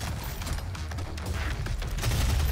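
Gunfire in the DOOM 2016 video game, a dense run of rapid shots and booming impacts layered over a heavy low rumble, loud and continuous throughout with no talk.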